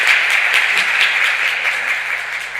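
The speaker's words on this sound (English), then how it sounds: "thank the panelists with a round of applause" Audience at an intersessional meeting applauding the panelists, a dense, steady round of clapping from a full room that carries on without a break.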